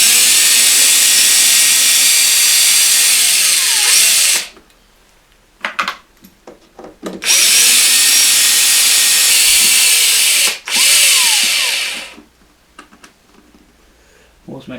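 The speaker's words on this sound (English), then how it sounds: "the first thing we're going to do is remove these 1, 2, 3, 4, 5, and from memory I think it's 6 screws" A power screwdriver takes the screws out of a Fender Hot Rod Deluxe IV amplifier, running in two loud, long bursts of whirring with short clicks and handling noise between them.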